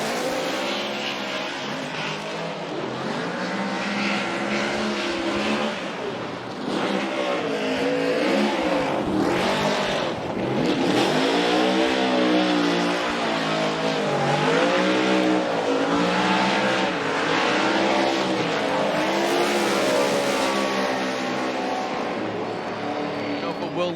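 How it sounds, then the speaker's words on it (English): Pennzoil Ford Mustang RTR Spec 5D drift car driven by Chelsea DeNofa at a championship drift event, its engine revving and wailing continuously at high pitch with shifting tones, loud throughout, under steady commentator talk. "Let's lay out and listen to loud, proud Ford Mustang of Chelsea DeNofa."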